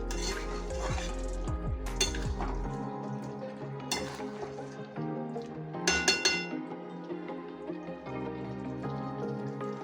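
Chicken being stirred and fried with spices in a pot, with a utensil scraping and clinking against the metal pan in irregular bursts over a steady cooking backdrop, near and alone.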